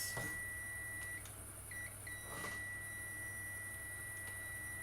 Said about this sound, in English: My multimeter needs an update, peeps. It's beeping